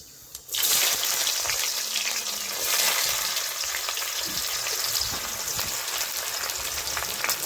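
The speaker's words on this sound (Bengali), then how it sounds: "দিচ্ছি একটু কালো জিরে ফোড়নে দিচ্ছি কোচানো পেঁয়াজ" Chopped onion drops into hot oil tempered with nigella seeds and dried red chillies, bursting into a loud, close sizzle after a brief quiet start and frying steadily with light stirring for a lentil dish.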